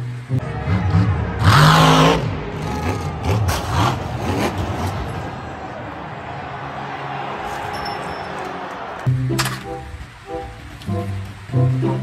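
Monster truck engine rumbling and revving loudly, with a strong surge early on and further bursts of acceleration near the end.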